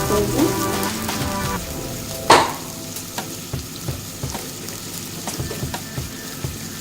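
Three small tomatoes being sautéed in a pan, giving a light crackling sizzle with a sharp clatter of the spoon early on and scattered soft stirring taps afterward.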